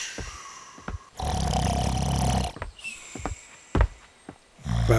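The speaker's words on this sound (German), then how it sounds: "Wartet mal, wieso liegt der denn auf dem Boden und schnarcht?" Snoring effect in a World of Warcraft audio drama, two long rasping, roaring snores about a second apart, close and loud, separated by quiet gaps with small rustles and thumps.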